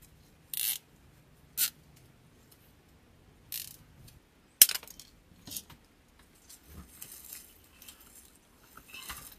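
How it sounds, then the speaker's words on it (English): A zip tie is ratcheted tight around a grapevine wreath in a series of short, crisp zipping bursts with pauses between, followed by lighter clicking and rustling of the vines, close and fairly quiet with no talk. "Now we're going to zip tie it all together"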